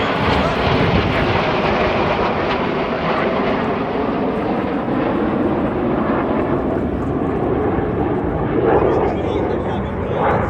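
RAF Red Arrows jets perform a rollback manoeuvre at the Royal International Air Tattoo 2024, a loud, continuous jet roar that stays steady for the whole stretch, with a public-address commentary voice running underneath.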